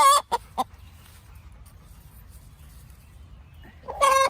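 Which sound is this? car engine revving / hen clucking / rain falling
hen clucking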